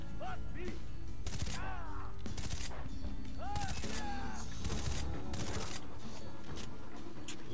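Rapid video game gunfire rings out in sharp repeated bursts among chaotic game effects, with a player talking over the shooting.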